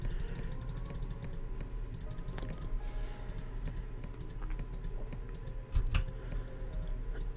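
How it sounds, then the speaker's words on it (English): Computer keyboard keys and a mouse clicking at a home desk during PC gaming: a steady stream of quick, close, light taps and clicks over low room hum, with no voices. "you can hear my keyboard and my mouse clicking"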